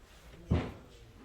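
A kitchen drawer at a Brico Dépôt showroom pushed shut, one soft muffled thud in a quiet room.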